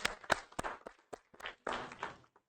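Church congregation clapping, a faint, sparse scatter of hand claps with uneven rhythm, a few sharp individual slaps and softer overlapping bursts, quiet and brief.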